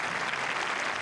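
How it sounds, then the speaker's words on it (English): Steady applause from a tennis crowd, dense and continuous throughout, with no voices standing out. "Getting some applause for getting to his feet and continuing."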